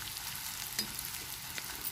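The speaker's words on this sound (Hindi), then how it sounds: "गोंद को धीमी आंच पे ही लगातार चलाते हुए भूनना है।" Edible gum (gond) roasting over low heat in a pan while being stirred continuously for panchmewa paag, giving a soft, steady sizzle with faint crackles and scraping, quiet and alone throughout.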